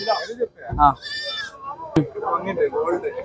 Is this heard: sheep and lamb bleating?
yes